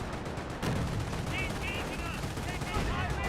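Battlefield gunfire in Company of Heroes crackles in dense, overlapping bursts, with an explosion-like thump and a commentator talking over it.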